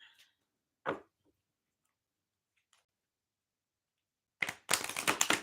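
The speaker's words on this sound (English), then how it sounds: "I'm just shuffling in preparation of your question." Tarot cards are handled in a quiet room, with a couple of isolated soft taps before a quick burst of crisp, dense papery riffling at the end.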